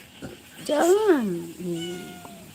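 A cat gives one drawn-out, rising then falling meow close by, followed by a softer trailing cry, with a quiet room in the background.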